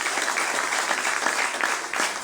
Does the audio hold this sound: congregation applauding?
yes